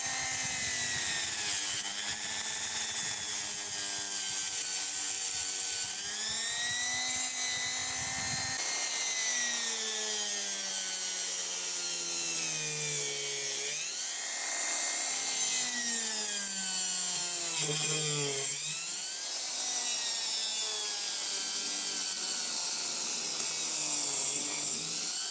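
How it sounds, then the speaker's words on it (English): A Dremel rotary tool cutting a shock link flush, its high whine rising and dipping in pitch as the bit bites into the part, continuous and close, with short pauses and no talking. "I'm going to use a Dremel, but you can use a handsaw, X-Acto, anything that can cut this"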